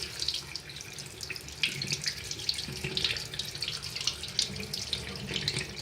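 Running tap water pours steadily into a sink while a makeup brush is rinsed, a continuous close splashing hiss with no talk.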